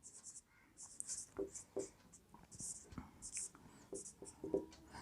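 A pen writes out a maths solution to a quadratic equation, with faint, close scratching strokes in short bursts and pauses, quiet throughout, with some low voice sounds mixed in.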